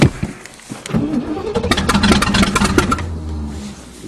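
Chevy engine cold-starting with a rough cranking burst that catches into a loud, uneven revving idle, close by, before settling down.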